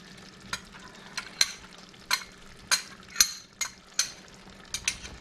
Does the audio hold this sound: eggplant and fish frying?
yes